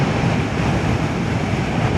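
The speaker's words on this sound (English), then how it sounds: "God, it is windy." Strong gale-force wind buffeting an outdoor microphone, a loud continuous roar of low rumbling noise with no pauses.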